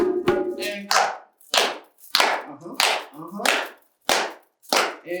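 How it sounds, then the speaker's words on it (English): A group of participants at a drum workshop claps in unison on the break, with about eight sharp, loud hand claps in a steady rhythm, each with a short ringing tail. "And clap."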